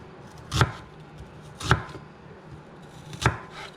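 A knife chops through onion on a cutting board for a jerk chicken and shrimp risotto, three distinct, evenly spaced thuds close up with quiet pauses between and no talking.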